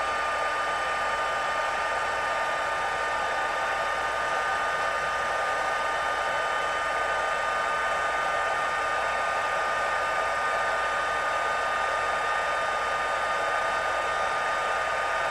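A heat embossing tool melts embossing powder on a stamped card, producing a constant loud blowing whir, like a hair dryer, that runs unbroken throughout with no speech.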